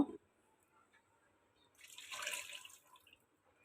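Water is poured into a frying pan coated with leftover chicken masala, a short, soft splash lasting about a second amid otherwise near-silence.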